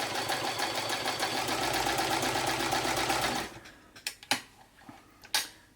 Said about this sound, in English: And as you can hear, that's quite a nice smooth machine.